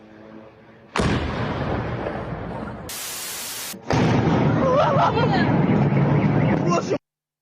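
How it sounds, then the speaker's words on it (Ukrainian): Explosions from a strike on the Progress factory in Cheboksary, Russia: loud, broadband blasts and rumbling bursts that fill several seconds, broken by a brief static-like hiss, then cut off abruptly. "Еще взрыв."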